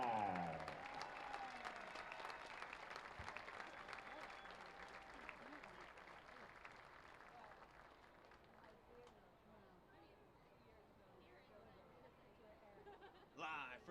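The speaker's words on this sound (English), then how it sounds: "How about a big round of applause for a true inspiration, Landon Deutschak." Ballpark crowd at TD Bank Ballpark in Bridgewater, New Jersey, applauding during a minor-league baseball game, a broad steady wash of clapping and cheering that gradually fades over about fourteen seconds, with crowd chatter mixed in.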